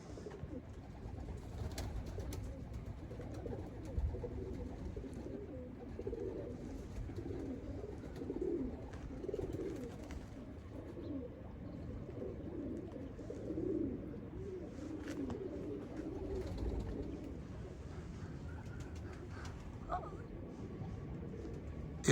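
Pigeons coo continuously in a loft during extremely cold weather, a low rolling murmur of many birds close by, with occasional rustling and a voice talking now and then.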